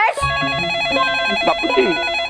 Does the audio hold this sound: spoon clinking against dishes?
no